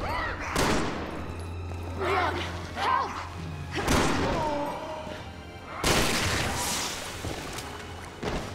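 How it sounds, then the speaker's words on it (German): In the Resident Evil 6 video game, a roof caves in with heavy thuds and crashing bursts of debris. Loud impacts recur through the scene, mixed with game effects and some voice sounds. "The roof is caving in."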